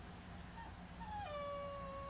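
A tired puppy lets out a thin, rising-then-falling whine, a brief high whimper near the end of the moment, faint against a low background hum with no one talking.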